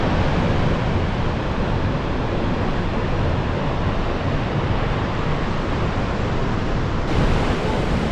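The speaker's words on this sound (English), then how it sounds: "We're at the bottom of Nevada Fall here." Nevada Fall, a Yosemite waterfall, heard from its base: a loud, steady, broadband roar of rushing, crashing water with no pauses.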